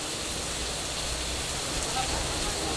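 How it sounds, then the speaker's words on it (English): Steady rain falls in Singapore, a dense, even hiss of water that stays constant and fairly close, with no pauses or breaks. "So we waited the rain out"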